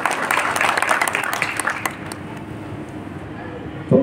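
Audience applause at a welcome ceremony in Sendhwa, Barwani district, a dense crackling wash of clapping that is loudest early, then thins and fades with a voice over it and a brief bump near the end.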